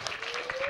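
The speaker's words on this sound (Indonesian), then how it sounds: "Ya tepuk tangan." A brief burst of audience applause at a religious talk, dense clapping with a faint speaking voice underneath.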